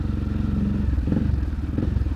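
A motorcycle passes close by on a narrow road, a brief, loud, low engine rumble with a rattling, pulsing texture and no speech.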